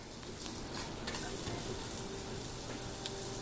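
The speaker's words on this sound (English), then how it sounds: "Just saute up these onions." Onions sauteing in grease in a pan, a steady continuous sizzle with faint stirring and scraping sounds, close and moderately loud with no talking.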